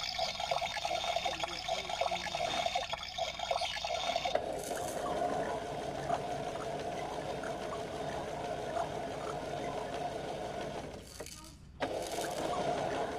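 A kid connection toy washing machine running its hand wash cycle, giving a steady close-up wash of running, sloshing water that holds level for most of the stretch, with a brief dip near the end before it resumes.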